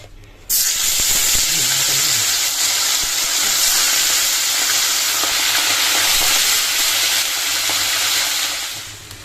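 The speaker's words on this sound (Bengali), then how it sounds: "কড়াইয়ে তেল দিয়ে দিয়েছি আর মাছটা ধুয়ে লবণ হলুদ মাখিয়ে দিয়েছি এবার মাছটা ভাজা হবে" Fish rubbed with salt and turmeric hits hot oil in a wok with a sudden loud burst, then a sustained bright, crackling sizzle that holds steady for several seconds before easing slightly at the end.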